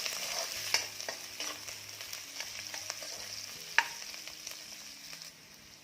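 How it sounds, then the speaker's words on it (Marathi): Onion and garlic fry in a pan, a soft steady sizzle broken by the scrape and clack of a spatula stirring, with a sharp knock near the middle before fading slightly. "कांद्यासोबतच लसूण टाकायचं आहे। आता हे छान रंग बदलेपर्यंत भाजून घेऊया।"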